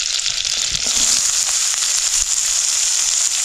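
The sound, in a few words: onion, garlic and ajwain frying in oil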